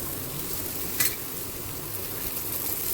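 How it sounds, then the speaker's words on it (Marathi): Thalipeeth, a mixed-flour flatbread with cucumber, roasting in oil on a pan gives a steady, fairly loud broadband sizzle with one brief sharper crackle partway through, and no talk. "तेल टाकून छान खमंग भाजायचं आहे आपल्याला"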